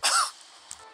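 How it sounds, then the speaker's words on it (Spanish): A single harsh cough bursts out loud and close at the start, then fades into quiet room tone with a faint soft knock near the end. "Y sigo con tos"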